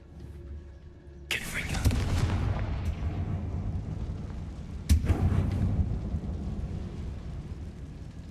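A Confringo blasting spell from the Hogwarts Legacy video game goes off in a sudden loud blast that rumbles and decays, then a second sharp explosive burst follows a few seconds later, with speech over it.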